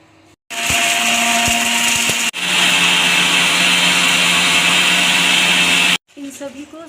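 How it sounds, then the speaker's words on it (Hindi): A spice grinder whirs loudly and steadily, grinding roasted cumin, fennel, nigella, fenugreek and ajwain in one continuous burst with a short break, then stops into quiet room sound. "जैसे जीरा, सौंफ, कलौंजी, मेथी, अजवाइन, सभी को हम एक साथ डालेंगे और ग्राइंड करेंगे।"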